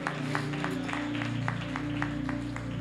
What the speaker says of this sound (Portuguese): Aleluia, aplauda ao Senhor.